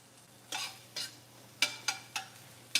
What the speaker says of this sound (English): So you can start to hear the sizzle here.